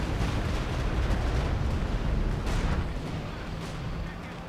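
Heavy bomber raid in Company of Heroes 2, a 4v4 match on White Ball Express: a dense, continuous rumble of overlapping explosions, loud and sustained, easing slightly toward the end.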